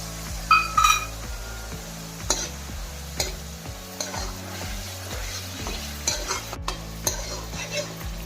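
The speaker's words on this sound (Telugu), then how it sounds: "దీని ఒక ఐదు నిమిషాలు మనం వేపుకోవాలి ఈ అల్లం వెల్లుల్లిపాయలు ఉల్లిపాయ పేస్ట్ని పచ్చిమిర్చిని యాడ్ చేద్దాం" Ginger-garlic-onion paste with green chilies frying in a pan, a steady soft sizzle broken by repeated stirring scrapes and a few light metallic clinks, close up with no talking.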